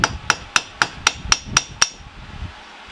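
Hammer tapping on metal during a Stihl MS250 chainsaw teardown, eight sharp, evenly spaced strikes close up, followed by one softer knock and a quiet pause.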